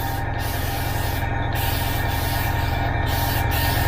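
A beginner's airbrush sprays paint in a steady, continuous hiss while the small compressor hums and chugs underneath, both running without pause at close range.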